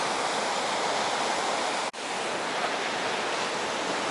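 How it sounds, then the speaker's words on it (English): Ocean surf on the beach at Barmouth on a stormy day with the tide up, a steady close roar of breaking waves that drops out for a moment and then continues, with no voices. "Let's see if there's any big wave."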